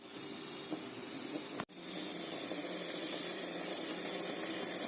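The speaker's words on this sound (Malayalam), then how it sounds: "ആവി വരുന്നുണ്ട്." A steady, loud hiss of steam escaping from a pressure cooker runs throughout, briefly cut by a sharp click before the hissing continues unchanged.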